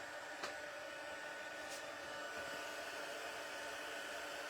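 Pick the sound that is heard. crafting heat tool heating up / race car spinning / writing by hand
crafting heat tool heating up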